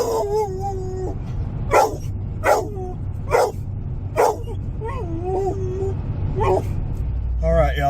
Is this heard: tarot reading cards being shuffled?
no